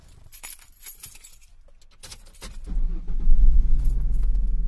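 Keys jingle and clink close by in short bursts, then a car engine turns over and settles into a steady low rumbling idle.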